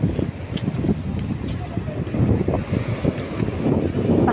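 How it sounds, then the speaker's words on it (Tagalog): Steady wind gusts and sea waves washing on a North Luzon shore, with people talking over the rushing noise. "Pakinggan mo lang yung"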